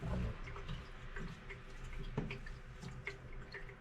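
Sumac tea liquid dripping through cheesecloth, faint irregular ticking drips and small splashes close by over a low background, with no talking.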